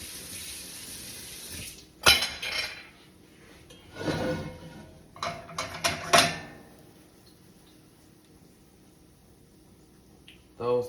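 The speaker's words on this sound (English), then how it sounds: "We're putting our biscuits in the oven." Metal baking pans clatter and clank sharply as buttermilk biscuits go into a preheated kitchen oven, a few loud knocks and rattles spread between quieter stretches, with a person talking nearby.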